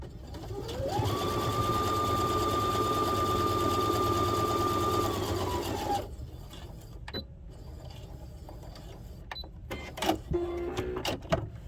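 A sewing machine stitches a zipper pouch in one steady whirring run of about five seconds, then stops, followed by small clicks and handling noises of fabric and machine parts.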